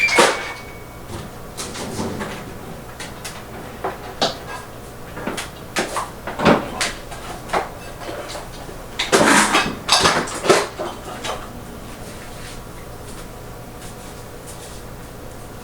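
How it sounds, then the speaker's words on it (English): Plastic clatter and knocks as a light fixture and lid come off a turtle tank, a series of irregular close clicks, bumps and scrapes, with a louder cluster of handling noise midway. "Anything that you have on top of the tank obviously has to come off because we have to take the lid off."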